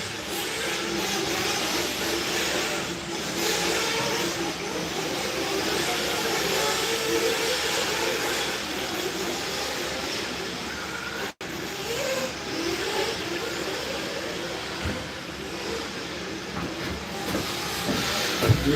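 Tekno RC race cars run a Winter Series main event, their small motors making a continuous hissing whine. A sharp break near the middle is followed by the same steady buzz, which stays at a distance without speech.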